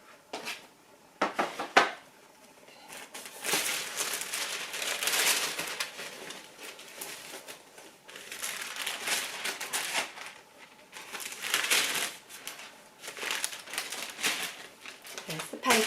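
Paper is unwrapped from a Hermès box, making close, soft rustling and crinkling in uneven bursts, with a few sharper knocks from handling the box.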